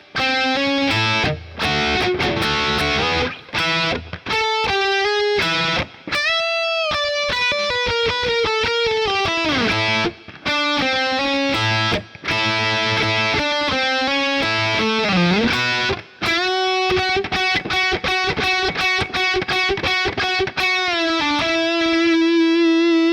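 Distorted electric guitar plays a solo, with fast note runs, bends and sustained high notes, loud and continuous with brief gaps, no talking.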